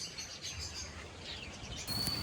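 Lovebirds in a park aviary give faint, scattered chirps and tweets at a distance, with one brief sharper high call near the end.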